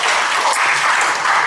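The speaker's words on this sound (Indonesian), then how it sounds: "Kita tepuk tangan sekali lagi boleh?" An audience of teachers applauds at a motivational talk, a loud, dense burst of steady clapping that fills the whole moment close up with no voices over it.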